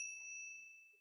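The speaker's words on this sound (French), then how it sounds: "au son de la cloche" A single clear bell ding marks a breathing exercise in a yoga session, a bright sustained ring that slowly fades over about a second, heard alone in quiet.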